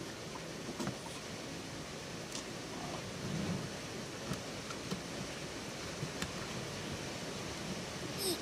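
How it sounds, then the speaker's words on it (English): Steady rain falls outside, with faint distant thunder rumbling underneath the constant hiss and occasional small ticks and knocks nearby. "It's raining outside."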